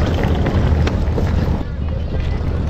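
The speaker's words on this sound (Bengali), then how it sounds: "এই যে আমাদের জাহাজ, সবাই যাচ্ছে।" Passenger ship at a dock in the Andaman Islands, heard as a steady loud roar of wind buffeting the microphone over low engine and water rumble, close and continuous.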